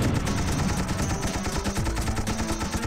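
Missile fire and explosions in the Air Assault video game, a dense continuous barrage of booming blasts and rapid bursts with rumbling low thuds throughout, loud and close.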